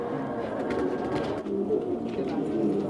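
Qasid and Rangeen pigeons coo at feeding time, a steady low murmur of overlapping calls from a mixed flock close by, with soft rustling throughout.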